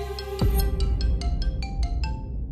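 A mobile phone ringtone plays indoors in a family drama scene, a bright repeating electronic melody of evenly spaced tones, loud and close, with a low hum beneath it.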